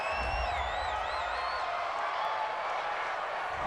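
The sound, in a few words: home crowd cheering a call, Madden NFL 20 video game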